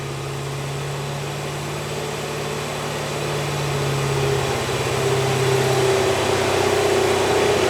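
A junkyard Ford 289 V8 that sat for over 45 years runs on an engine dyno, its steady drone rising as the RPM is nudged up, loud and close with no talk over it.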